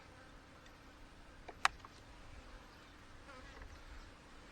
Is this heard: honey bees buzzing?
yes